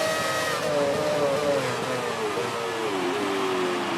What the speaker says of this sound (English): Oh, I've hit the rev limiter